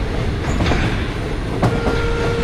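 A passenger-line train rolls past nearby with a loud, continuous rumble and faint rhythmic clatter of wheels on rails, with no voices over it.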